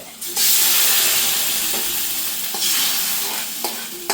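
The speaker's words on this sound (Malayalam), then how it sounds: "അങ്ങനെ കടുക് വറുക്കണം." Mustard seeds fry in hot oil in a pan with a loud, continuous sizzle, broken by a few sharp scrapes as a spoon stirs them, and no one talks.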